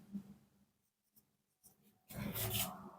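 A pen writes numbers on paper while an economics problem is being solved, giving soft, quiet scratching strokes with brief pauses between them and a louder burst of scribbling near the end. No one talks.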